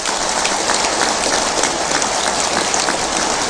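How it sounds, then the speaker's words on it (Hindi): Audience at a Hindi spiritual discourse clapping hard, a dense, loud, continuous wash of applause close up with no voices over it. "देश के नाम पर ताली धीरे मत बजाना,"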